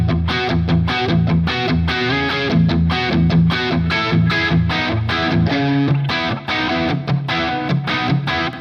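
A chugging, heavily distorted electric guitar riff plays steadily with a driving rhythm through a KHE ACS 4x4 FX amp switcher, loud and continuous, with no voices.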